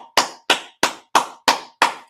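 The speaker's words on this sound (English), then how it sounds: "Let's clap it up for the Most High Christ" Six sharp, evenly spaced claps ring out, loud and close, in a steady rhythm with brief silences between each, as people clap along at a gathering.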